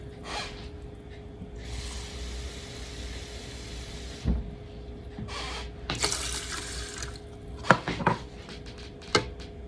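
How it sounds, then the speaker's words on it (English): Water runs from a tap in bursts into a cooking pot, with clanks and knocks of cookware between the pours, close by. "add some fresh water"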